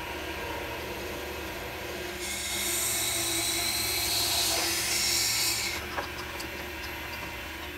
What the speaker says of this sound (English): so we'll go ahead and drill that out now